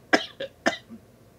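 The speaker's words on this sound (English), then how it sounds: "After I finish coughing and choking to death." Three sharp coughs in quick succession from one person, close and fairly loud, followed by a faint throat-clearing grunt, with no other sound around them.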